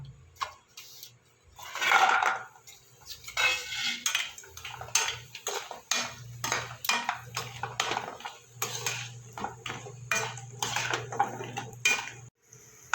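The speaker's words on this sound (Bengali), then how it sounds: "এবার আমি বড়িটা একটু ভেজে নেব।" Sun-dried lentil bori fry in hot oil in a wok, a soft sizzle broken by frequent sharp clinks and scrapes of a utensil against the pan, close and fairly loud, with no talk.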